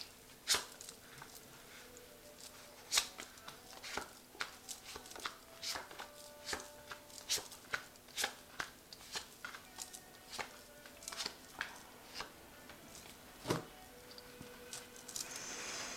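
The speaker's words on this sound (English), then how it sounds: "I have shuffled this deck." Soft, irregular riffles and taps of a tarot deck being shuffled, quick flicks and slaps at close range in a quiet room, no voices.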